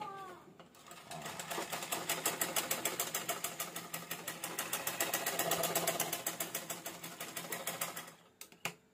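A sewing machine runs steadily after a thread tension adjustment, its rapid regular stitching clatter lasting about eight seconds at close range before it stops, with no voices.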